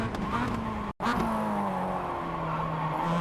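A Mazda MX-5 in the iRacing sim brakes hard and downshifts with throttle blips, engine drone and tire squeal running throughout, broken by one brief cut near the start, with no talk.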